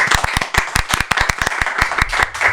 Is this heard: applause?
yes